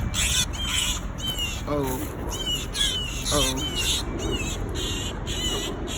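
Baby birds that fell from their nest squawk in shrill, repeated bursts close by, over a steady noisy background, while a person speaks briefly.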